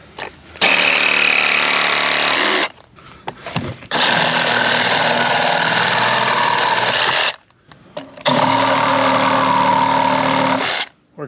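Milwaukee M12 Hackzall cordless reciprocating saw with a wood blade cutting through wood with embedded nails, three loud sustained buzzing bursts separated by short pauses, close up.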